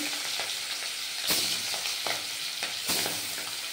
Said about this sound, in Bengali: এবার এটা নামিয়ে আরেকবার মাছ ভেজে নেবো